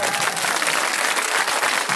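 A political rally crowd for an independent Lok Sabha candidate in Banaskantha claps together in a dense, steady burst of applause, close and loud throughout.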